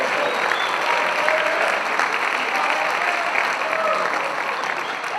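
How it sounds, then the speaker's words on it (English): A high school auditorium audience gives students a sustained round of applause, dense even clapping at steady loudness throughout. "Let's give these guys a big round of applause also."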